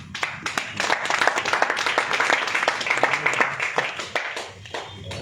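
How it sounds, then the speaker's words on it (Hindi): An audience claps and applauds to welcome people onto a stage at a product event, a dense crowd of hand claps rising quickly, holding steady and loud, then thinning toward the end. "जोरदार तालियों के साथ"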